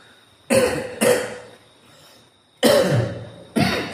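Four harsh coughs, close and loud, come in two pairs separated by a short quiet pause.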